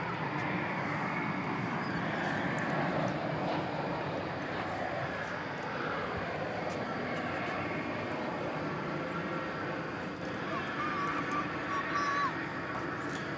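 An airliner on a flight from Los Angeles rumbles with a continuous, steady engine roar at moderate distance, while faint voices murmur intermittently beneath it.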